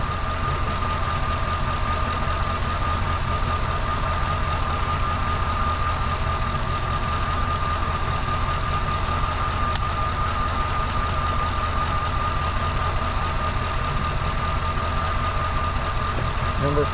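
A 2001 Chevy Suburban engine idles with a cylinder misfire, a steady close mechanical drone with a faint irregular knock running unchanged for the whole stretch.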